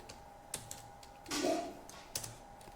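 Sparse, quiet keystrokes on a computer keyboard, a few isolated taps spread apart with one short burst of clatter in the middle, while Java code is being written.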